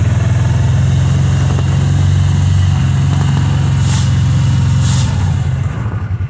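An ATV engine runs loud and steady at close range while riding in extreme cold of -10°F at Big Lake, Alaska. The low drone holds constant, then wavers slightly near the end. No one speaks.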